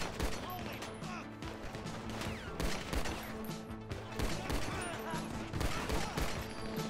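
Rapid, dense pistol gunfire from an SMS pistol in a video game, many sharp close cracks in a busy firefight with clatter and crashes, and a voice speaking briefly underneath.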